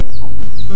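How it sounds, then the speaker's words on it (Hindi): Chickens and roosters on a farm near Ranchi, loud close clucks and short squawks in quick succession, with no voices. "मुर्गा है, मुर्गी है, देख सकते हैं सब इधर मुर्गे मुर्गा मुर्गी घूम रहा है"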